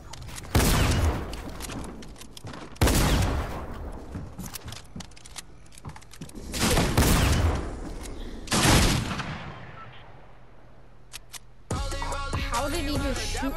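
Gunfire in a shooter video game: several loud bursts of shots with echoing tails, separated by brief pauses, ending in a steadier mechanical clatter.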